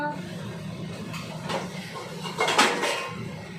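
A metal lid comes off a cooking pot of chilli chicken, giving two clattering clinks of metal cookware over a low background hum.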